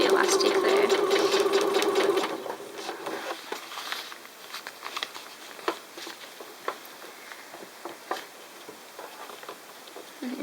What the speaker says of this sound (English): we're constantly readjusting and making sure that we're sewing that as flat as possible